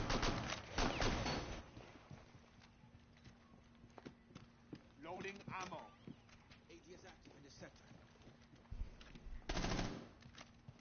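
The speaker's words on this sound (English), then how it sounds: "Wasted a whole mag on one guy." Gunfire from a video game sounds as scattered bursts of rapid shots, the fire fairly quiet and broken up, mixed with other game sounds while people talk over it.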